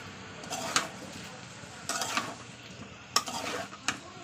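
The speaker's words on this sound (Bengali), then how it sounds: "এবার দিয়ে দেবো জল।" Shrimp curry frying in a pan, with scraping stirs and bursts of hissing sizzle as water is added, arriving in several short loud surges over a steady low crackle.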